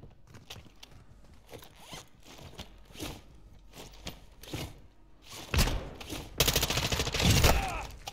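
M4 rifle fire in Call of Duty DMZ, a series of sharp, fairly loud shots in uneven bursts that end in a dense, heavy volley, with faint talk underneath.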